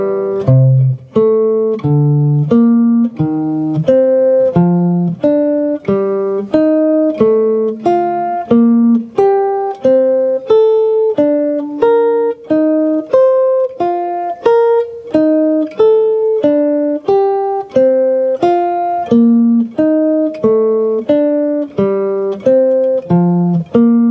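A scale played as skips of fifths for left-hand dexterity practice, each note struck clearly and alone at a steady, even tempo with no talking, the line stepping up and back down over several bars.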